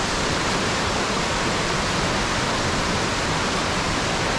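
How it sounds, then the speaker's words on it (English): A river running unusually high during Storm Christoph, a steady, dense rushing roar of fast water that fills the whole stretch evenly and loudly, with no pauses or other sounds. "This river is actually pretty high compared to usual."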